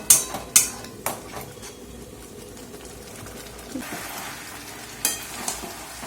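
Mutton being stir-fried in a pan, giving a low steady sizzle broken by several sharp scrapes and clinks of a utensil against the metal, with no talking.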